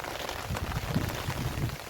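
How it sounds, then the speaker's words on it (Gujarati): Rain pours down in a constant rushing patter, with heavier drops drumming on a nearby surface. "વરસાદનો કેવો માહોલ છે. આ એવો વરસાદ છે ને"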